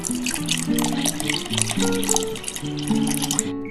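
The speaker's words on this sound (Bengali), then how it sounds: "আমি অল্প একটু ঠান্ডা জল দিয়ে দিলাম" Cold water is poured for a sour yogurt lassi, heard as a close, continuous splashing and gurgling pour that stops abruptly at the end.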